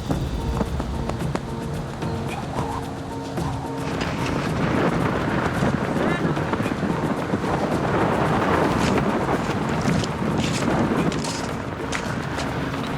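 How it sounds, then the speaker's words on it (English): Wind roars and buffets the microphone in strong, rising gusts ahead of a storm, with scattered rattling and scraping of blown gravel, loud and continuous. "You can hear the roar of the wind and the gravel being brought towards you."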